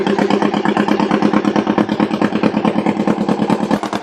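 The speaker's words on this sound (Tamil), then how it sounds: "அதாங்க போட்டோட இன்ஜின் ஸ்டார்ட் பண்ணிட்டாங்க" Motorboat engine on the Kaveri river running steadily after starting, a rapid, even mid-pitched chug with throbbing pulses, loud and close, no voices over it.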